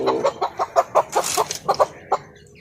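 A healthy village rooster clucks in a quick, rhythmic run of about a dozen short notes, close and fairly loud, with one longer squawk in the middle and a brief pause before a final cluck.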